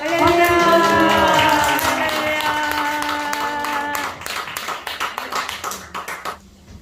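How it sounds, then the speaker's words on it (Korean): A church congregation at a revival meeting breaks into applause to welcome a guest preacher. Loud tonal music or amplified voice comes first, then a burst of many hands clapping unevenly nearby fades over the last few seconds. "강사님 나오실 때 박수로 강사님 모시겠습니다."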